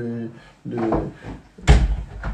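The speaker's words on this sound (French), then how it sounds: "ferme-nous la porte" A door in a home closes with a solid thud right after someone speaks, and his voice continues over it.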